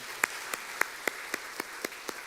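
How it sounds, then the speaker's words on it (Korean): A small church congregation at a Sunday service gives scattered, faint claps, roughly nine sharp hand claps spaced unevenly over a couple of seconds, without voices. "박수로 합시다"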